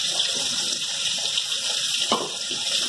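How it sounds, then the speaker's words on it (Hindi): A short burst of water runs from a tap into mustard sauce for Bhetki fish with okra, a close, continuous splashing flow with one sharper splash near the end. "ये बच गया और थोड़ा पानी मिलाइए."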